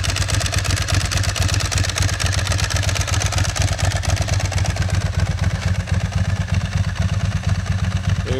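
A Ducati 996 V-twin running with a dry clutch, a loud close lumpy idle with rapid rhythmic pulses and a constant metallic clatter from the clutch, held steady with light throttle throughout.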